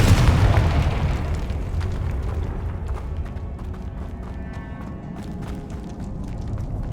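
A Confringo fire spell bursts in Hogwarts Legacy with a loud, booming explosion at the start, and its rumbling tail fades into a steady low roar with scattered crackles over the following seconds.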